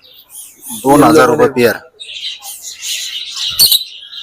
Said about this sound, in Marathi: ही लुटीनो लव बर्ड आहे